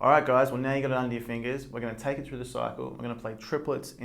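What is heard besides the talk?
No everyday noise stands out behind the speech.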